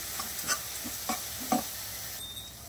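Chili powder and coriander powder frying in a pan for gongura pasta curry, giving a soft sizzle with a few light stirring scrapes spaced through the clip, faint and without talk.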